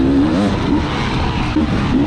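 Enduro dirt bike engine at a sprint enduro race revving loudly and continuously close by, with a wavering, buzzy pitch that rises and dips over a couple of seconds, with no talking.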